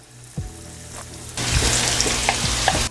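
Shrimp hit a hot pan beside a resting steak, setting off a sudden loud sizzle that hisses steadily after a few soft clunks of them being placed down.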